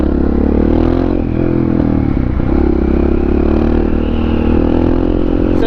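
A lightweight supermoto motorcycle rides a twisty road, its engine droning steadily and loud throughout with a rough, buzzing tone and wind rush, holding a fairly even pitch with slight surges, no voices.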